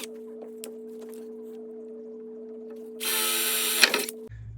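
A Festool Domino joiner cuts a mortise for a breadboard end on a wooden tabletop: a steady hum idles before a loud, brief high-pitched whine of cutting that ends with a thump, close by.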